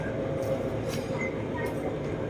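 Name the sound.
elevated MRT Blue Line electric train ride, Bangkok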